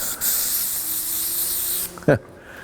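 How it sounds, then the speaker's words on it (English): A silicone spray can hisses in one long steady spray, close by, then cuts off and is followed by a short thump. "Silicone spray, what little I have left."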